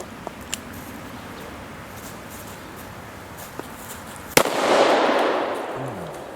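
A Taurus Judge revolver fires one triple-aught buckshot shell at seven yards, a single sharp loud blast followed by a rolling outdoor echo, after several seconds of quiet with faint small clicks.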